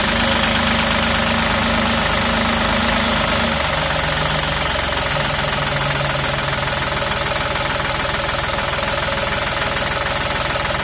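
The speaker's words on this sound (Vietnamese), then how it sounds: "Máy này nổ đã lắm." A Mitsubishi 35B mini excavator's diesel engine runs steadily at close range, a loud continuous knocking idle with a slight shift in pitch a few seconds in, heard alone without talk.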